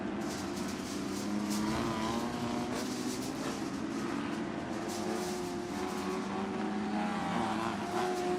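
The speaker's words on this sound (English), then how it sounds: "that's a long line of race cars coming through right now in that split lane area" Several race cars in a sportsman class roar past along a track at Elk River, Minnesota, a steady, continuous engine drone with rising and falling passes and no talk over it.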